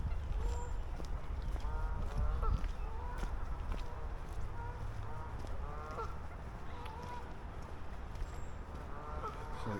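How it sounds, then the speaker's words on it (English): Ducks and other waterfowl on Scarborough Mere, calling repeatedly in quacking, honking bursts throughout, fairly near, over steady outdoor background noise and occasional footsteps. "There's a few ducks down here."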